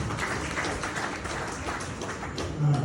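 Audience applause for the district governor at a Rotary Club official visit, a steady dense patter of many hands clapping throughout, fairly loud and continuous with no talk over it.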